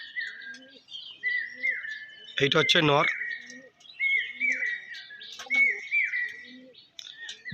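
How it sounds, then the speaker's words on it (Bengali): Domestic pigeons kept as a breeding pair call from a perch in a loft: short repeated chirping phrases at a steady pace, with a louder burst of calls near the middle and someone talking over them. "এই যে দুটো পায়রা দেখতে পাচ্ছেন"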